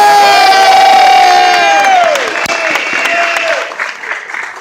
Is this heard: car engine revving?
no